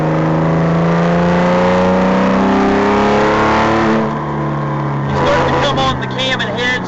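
A Porsche with a hand-built R43 flat-six engine cruises gently, its steady loud engine drone holding a smooth tone before shifting partway through, with road noise around it.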